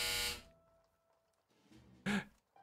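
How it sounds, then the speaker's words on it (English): A short electronic buzzer from the video game Dungeon Rummage sounds twice: a loud broadband burst at the very start, then a second sharp blast near the end after a stretch of faint game tones. "Ignore the buzzer"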